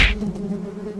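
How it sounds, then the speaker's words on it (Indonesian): Wasps of the afinis type drone and buzz steadily around their nest, a close, continuous insect hum that follows a brief sharper noise at the start. "Adip disengat tawon, Bu."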